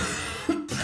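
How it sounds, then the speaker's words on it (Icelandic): A single close, loud cough, short and harsh, set against a steady background, in an Icelandic television cough medicine advert. "Hóstinn að angra þig?"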